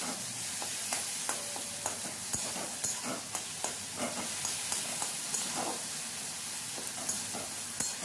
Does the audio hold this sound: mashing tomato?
yes